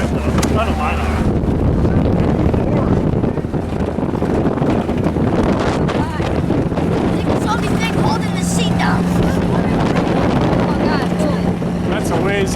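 Strong wind gusting across an open ridge line, a steady loud roar buffeting the microphone throughout, with people talking underneath.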